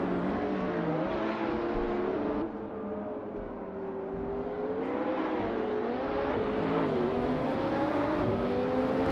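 Race cars, among them a 2015 Ferrari 488 GTB with a turbocharged V8, roar continuously at close range, engine pitch rising and falling through gear changes and acceleration, with no talk over it.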